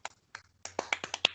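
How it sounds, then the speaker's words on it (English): A handful of soft, sparse hand claps, a slow and deliberately polite golf clap, with about eight light slaps spread unevenly over a moment and no voices. "With the golf clap."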